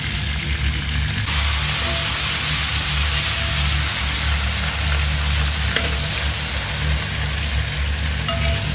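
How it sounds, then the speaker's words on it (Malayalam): Chicken pieces fry in a pan for a homemade mandhi, giving a loud, continuous sizzle and crackle. It stays close and steady throughout, with a few faint clinks but no talking. "ചിക്കൻ ഒരു ഭാഗം ഫ്രൈ ആയാൽ മറിച്ചിട്ടൊന്ന് കൊടുക്കാം."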